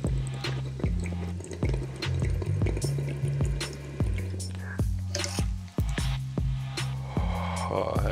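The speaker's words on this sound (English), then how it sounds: "You can throw it on here for a kind of water bubbler kind of vibe." Water bubbles and gurgles through a pocket bubbler fitted to an Arizer Extreme Q vaporizer, with steady rhythmic bursts of bubbling close by, repeating in quick pulses throughout.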